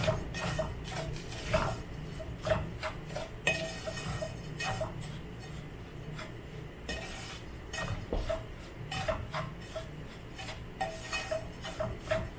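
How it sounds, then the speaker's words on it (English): Sooji being stirred in a pan to brown evenly, with steady scraping and clinking of a spoon against the metal over a faint sizzle, close and repetitive across the whole stretch, with no talking. "So now is the time to be stirring, because you want it to brown very evenly."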